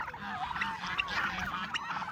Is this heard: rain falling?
no